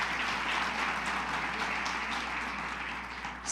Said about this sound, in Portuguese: Um aplauso a Jesus Cristo de Nazaré, o vivo e o novo caminho.